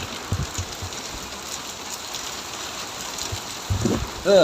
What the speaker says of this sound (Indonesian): Dan ini hujannya makin gede, woi badai.